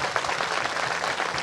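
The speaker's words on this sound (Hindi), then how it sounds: "जोरदार ताली बजाएगा" A crowd at a religious gathering in a village applauds loudly and steadily, a dense wash of many hands clapping with no talk over it.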